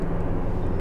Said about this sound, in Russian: когда какой-то военный самолет рядом летит